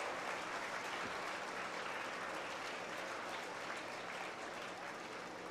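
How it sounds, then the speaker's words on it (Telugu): Sustained applause from a large audience at an Acharya Vandanam programme for children, a dense, even roar of clapping that holds steady for several seconds. "వాళ్ళందరూ చప్పట్లు కొట్టాలి"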